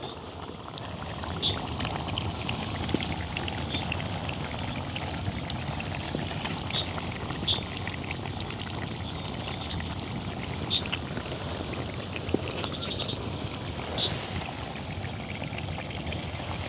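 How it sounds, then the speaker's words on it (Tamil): Rice boils in a pot in a village kitchen, giving a steady, dense bubbling and gurgling rumble throughout with occasional small pops, close and continuous. "நான் சோறு சமைச்சிருக்குது இந்த உரக்கி வச்சு இவ்வளோ நேரம் பாருங்க அப்படி கொதிச்சு கொண்டு கொண்டே இருக்குது"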